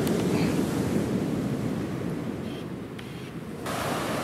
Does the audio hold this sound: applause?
no